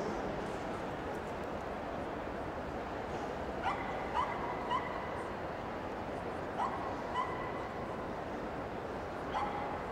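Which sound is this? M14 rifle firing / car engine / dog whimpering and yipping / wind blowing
dog whimpering and yipping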